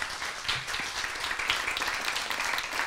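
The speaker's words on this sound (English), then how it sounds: "Let's give her a round of applause." An audience at a lecture on collective urbanism claps steadily, a dense burst of applause that carries evenly through the short stretch without voices.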